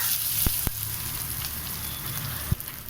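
A crushed rasam spice mix fries in hot oil with mustard seeds, giving a steady close sizzle with a few sharp pops and clicks from the pan.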